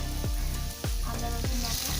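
Onion frying in hot oil in a pan, a steady loud sizzle with a few sharp spatula scrapes against the pan at regular intervals.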